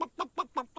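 Four quick, evenly spaced clucks from chickens, fairly close and clear, each a short nasal burst in a steady rhythm.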